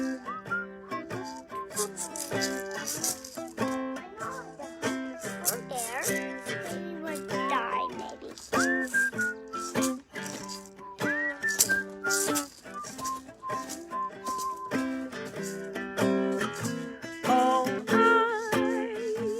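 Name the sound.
person whistling a solo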